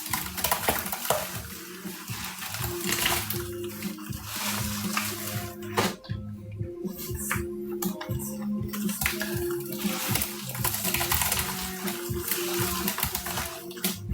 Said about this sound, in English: it is splashing everywhere